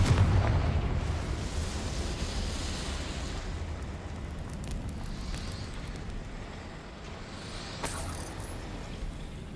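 A Confringo fire spell goes off in the Hogwarts Legacy video game, a deep booming blast that rumbles and slowly fades over several seconds, followed by faint crackles and a small pop near the end.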